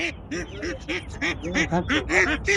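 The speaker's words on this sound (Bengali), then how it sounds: "দেশি হাঁস আছে এবং বেলজিয়াম হাঁস আছে" Deshi and Belgian ducks quack repeatedly at a busy bird market in Hemayetpur, Savar, the rapid nasal calls close and loud, overlapping in quick bursts with crowd noise beneath.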